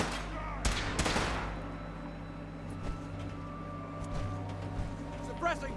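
Video-game gunfire crackles in a sharp volley of near, rapid shots at the start, then scattered single cracks follow over a low rumble, with voices faintly underneath.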